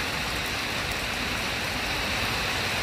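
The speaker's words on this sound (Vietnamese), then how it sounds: "Giờ ngồi với được ngắm mưa bạn ơi" Steady rain pours onto murky water at a fishing spot, a dense, even hiss of drops that continues unbroken and close, with no voices.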